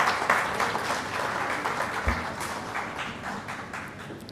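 A live audience at an Urdu literary gathering applauds the Bazm-e-Urdu team with dense, sustained clapping that holds steady throughout.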